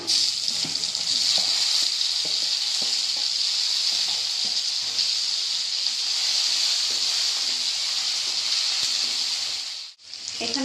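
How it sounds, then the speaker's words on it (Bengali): Fish head curry with chopped tomato and green chillies fries in a pan, giving a steady loud sizzle with scattered scraping stirs throughout, then a brief dip near the end. "এবার ভালোভাবে নাড়াচাড়া করে নিতে হবে এখানে আমি একটা টমেটো কুচি দিয়ে দিলাম"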